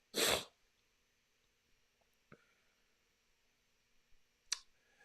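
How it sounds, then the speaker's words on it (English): A single sharp human sneeze bursts out loudly at the start, followed by quiet room tone with a couple of small clicks and a soft snort later on. "Excuse me, I got to sneeze."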